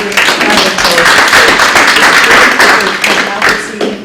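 Audience applause for the staff at a Singer Island town hall meeting, a steady wash of clapping from a room of people that holds for about four seconds before thinning at the end.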